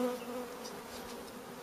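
Honey bees hum in a dense, steady buzz at an open hive, the drone close and continuous without pause.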